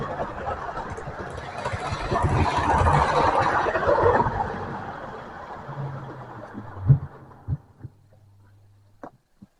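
Model railway train running on a Dave's combo controller, a steady broadband rumble and whir that builds and then fades away over several seconds, followed by a few sharp clicks and clunks near the end.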